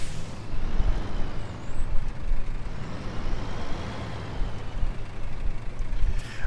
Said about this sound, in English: we call the tow truck,